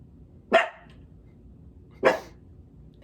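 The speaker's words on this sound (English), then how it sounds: "barking in the window" Two sharp dog barks, about a second and a half apart, fairly close, with quiet background between them.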